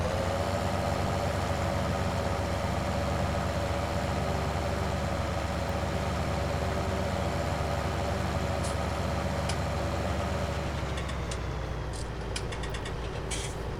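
A tractor engine idles steadily in a farming simulation game, a constant low mechanical rumble with a droning hum, close and even throughout, with a few faint clicks near the end.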